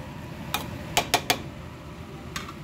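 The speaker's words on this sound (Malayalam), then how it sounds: "ഒന്ന് ഇളക്കി കൊടുക്കുക ചെറുതായിട്ട്" A spoon stirring jackfruit puzhukku in a metal pot, a few sharp clinks against the side in a loose cluster, then one more tap after a pause, with no talk.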